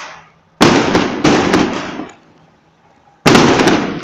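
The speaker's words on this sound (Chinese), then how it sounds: "庙会放鞭炮很大声" Strings of firecrackers set off at a temple fair rattle in loud, close crackling bursts: one long burst, a second right after, a short pause, then a third.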